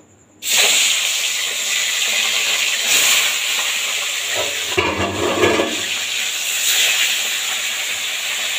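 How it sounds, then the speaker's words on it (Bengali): Fish frying in a kadai of oil previously used for potatoes gives a loud, continuous broadband hiss that starts abruptly and holds steady, with slight swells, throughout. "কড়াইতে আমি আগে আলু ভেজেছিলাম, ওই তেলের মধ্যেই আমি মাছগুলো ভেজে নেব"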